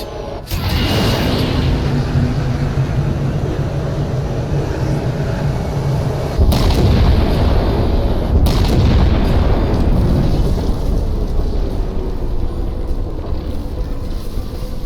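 Heavy cannon shot in the Halo video game: a loud booming blast with a long rumbling low roar and wind-like rush, followed by a second surge of deep rumble midway, sustained and dense with no talking.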